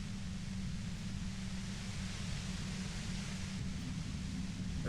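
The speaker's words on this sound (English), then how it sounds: "You hear through the white noise. It's especially bad suddenly." Steady, featureless white noise static in the video game Disco Elysium, a constant low hiss that stays even and unbroken from start to finish, with no voices.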